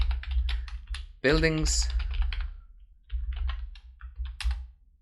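Code is typed on a computer keyboard in bursts of quick, close clacking under a low hum, broken by a short spoken word and a brief gap before the typing resumes.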